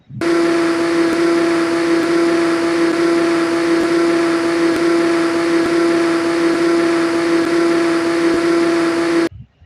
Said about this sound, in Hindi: सबसे पहले हम जूसर में दूध और चीनी को ग्राइंड करेंगे ताकि चीनी अच्छे से मिक्स हो जाए।